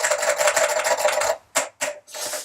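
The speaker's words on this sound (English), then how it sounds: "these are super noisy. This is what people talk about when they have the mechanical key" Rapid, clattering keystrokes from an original Apple Extended mechanical keyboard with Alps switches fill the first second and a half, then a few separate loud key bursts follow with short pauses between.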